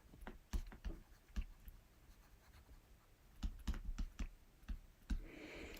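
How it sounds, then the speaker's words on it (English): Pen tip strokes and taps on a graphics tablet, a quick run of dry scratchy clicks in bursts with short pauses, close and fairly quiet, no voices. "the graphics tablet that I'm using to write this"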